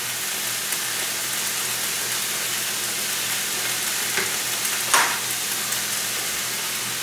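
Eel sizzles steadily in a stir fry pan, an even hissing crackle throughout with a couple of brief louder pops near the end and no talk.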